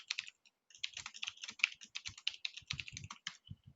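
Quick, close typing of code on a computer keyboard, a busy run of crisp keystrokes with brief pauses and a few heavier key presses, with no talking.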